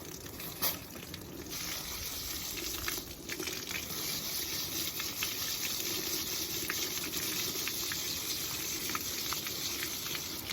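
Water from a tap gushes steadily over aquarium pebbles as they are rinsed during a fish tank deep clean, a continuous hissing rush at close range with no speech.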